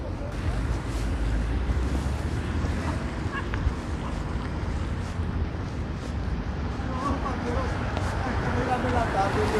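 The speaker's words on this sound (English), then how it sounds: "It's getting a little bit windy now." Wind gusting on a street in Queens, New York, a constant blustery rumble and buffeting against the microphone throughout, with a voice talking over it.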